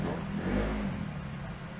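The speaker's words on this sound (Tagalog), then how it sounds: "Ingay ng motor." A motorcycle engine revs nearby in a steady, droning roar that swells briefly and then holds at a constant level, with no voices.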